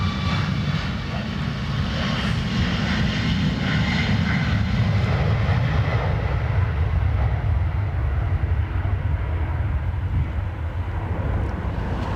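A Qatar Airways Airbus A350 taxis at windy Dublin Airport, its jet engines producing a steady, broad rumbling roar with a low drone that holds constant throughout, heard at a distance under gusting wind.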